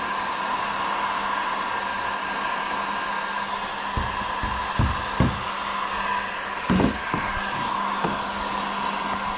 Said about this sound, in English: I feel like I need to heat this up more.